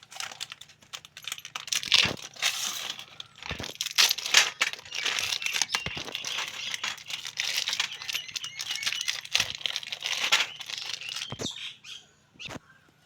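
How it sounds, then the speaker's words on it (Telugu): Biscuit packets of Oreo cookies are torn open in a kitchen, giving close crinkly plastic rustles and sharp ripping bursts scattered irregularly across more than ten seconds, with no speech. "బిస్కెట్ ప్యాకెట్లన్నీ ఇలా చింపేసుకొని"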